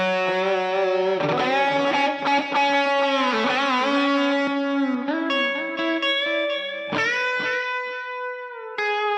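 An electric guitar played through a free amp simulator set to a mildly overdriven breakup tone, with a sequence of sustained, ringing notes and chords played alone with no talking.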